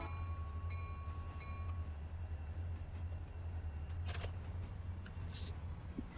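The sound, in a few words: train moving through rail yard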